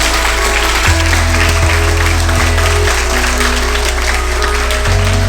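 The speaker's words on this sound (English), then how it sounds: "Please give them a round of huge round of applause." Applause for student performers at a school club inauguration, a loud, continuous wash of clapping heard through a hall sound system with a low electrical hum underneath.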